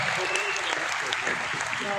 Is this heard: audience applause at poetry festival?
yes